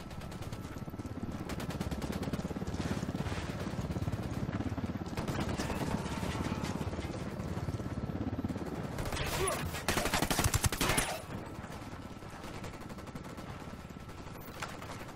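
Gunfire in Ghost Recon Wildlands during a firefight with enemy snipers: repeated shots and bursts crackle over a dense game soundscape, with one loud burst near the middle and faint voices mixed in.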